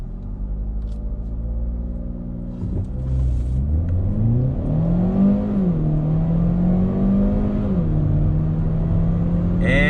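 A 2019 Hyundai Elantra Sport launches hard from a standstill after brake-torquing, its engine note climbing steadily through a rising, droning rev with a brief dip at a shift, loud and close with no talk over it.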